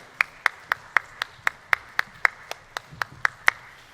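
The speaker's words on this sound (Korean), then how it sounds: "엘림 찬양단 감사와 또 격려의 박수 하겠습니다" A congregation at a Sunday church service claps for the worship team, about fourteen sharp, evenly spaced claps over four seconds that sound fairly thin, like only a few people clapping, with no voices.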